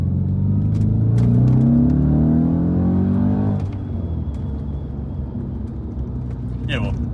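An Audi RS4 B7 with a six-speed manual gearbox drives along. A steady engine drone climbs in pitch, then eases off to a lower rumble partway through, with voices talking over it.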